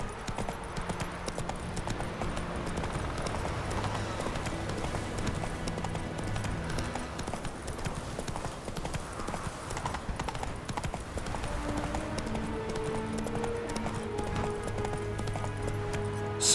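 Roach the horse gallops in The Witcher 3, a continuous rapid drumming of hooves at steady rhythm over a droning background, with a faint whinny near the end.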